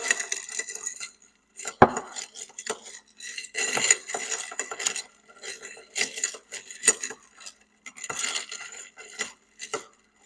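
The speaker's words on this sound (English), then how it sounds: "And then we're going to stir this up." A bar spoon clinks and scrapes against glass as a grenadine cocktail is stirred, a series of bright metallic rattles in uneven bursts with short pauses between them, close and fairly quiet, with no talking.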